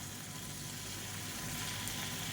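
Paneer pieces fry in oil until golden, giving a dense, even sizzle that stays close and steady throughout the short stretch, with no voices.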